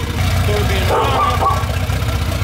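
A turbocharged, fuel-injected VW Gol idles with a loud, lumpy, uneven rumble, heard close and continuous for a couple of seconds.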